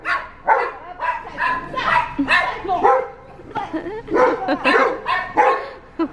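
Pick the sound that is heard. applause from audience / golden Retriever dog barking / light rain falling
golden Retriever dog barking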